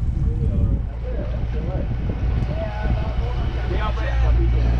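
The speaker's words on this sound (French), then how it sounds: "Un bel océan là, avec une grande houle." A sailboat crosses the open ocean in a big swell, with a steady low rumble of wind and water around the hull and voices talking over it throughout.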